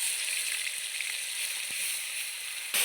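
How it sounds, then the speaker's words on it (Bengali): Onion paste goes into a wok over whole garam masala and dried chilies, frying as a continuous close sizzle at moderate level, with a few soft clicks and a louder burst of sizzling at the end. "দিয়ে দিচ্ছি এখানে পেঁয়াজ বাটা"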